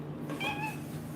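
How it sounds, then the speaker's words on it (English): A pet cat lets out one short, clear meow with a rising then falling pitch, close to the microphone, over a quiet indoor room hum with no talking. "Did we summon a cat? We sure did."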